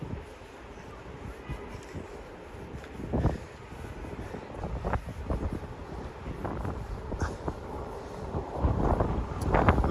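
Strong wind buffets the microphone in gusty low rumbles on 14th Street in Manhattan, New York City, on a snowy day, with faint street noise underneath and no clear speech.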